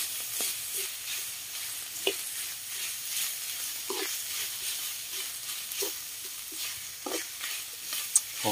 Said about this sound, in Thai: เอาเครื่องลงผัดเลยครับ เครื่องลงไปผัดไฟอ่อนๆครับไม่ต้องแรงครับ